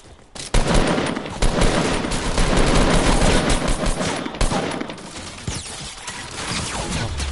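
Sustained gunfire in a PS4 shooter game, dense bursts of automatic shots rattling continuously for several seconds with a few isolated single cracks near the end, loud and close.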